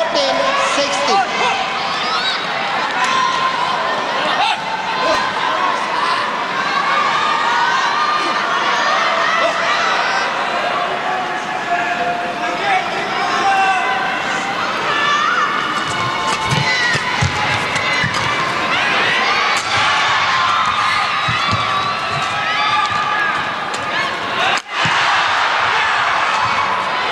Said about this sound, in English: Well, listen to that crowd.